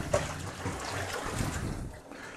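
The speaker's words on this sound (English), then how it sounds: "Pour that water out." Water poured out of a plastic storage container, a steady splashing gush that runs for a couple of seconds, close by and moderately loud, with no talk.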